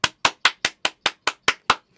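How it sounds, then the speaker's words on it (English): Nine crisp, evenly spaced hand claps in a steady rhythm, close and loud, each sharp and isolated with brief silence between, ending abruptly. "Clap it up."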